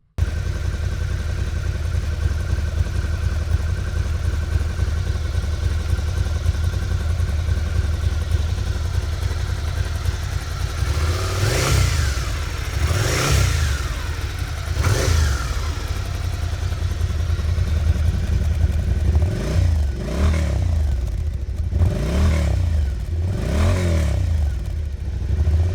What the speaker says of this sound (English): engine and exhaust notes to be recorded on my videos